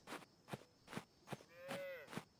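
A cartoonish cow lows once in a farming game, a bending drawn-out moo rising and falling between several sharp, evenly spaced clicks or footsteps, with no talk over it.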